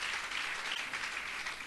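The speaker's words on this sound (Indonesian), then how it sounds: "Dan berikan tepuk tangan bagi Tuhan." A church congregation claps during a general worship service, a short, steady wash of applause that fills the room without pause, with no voices rising above it.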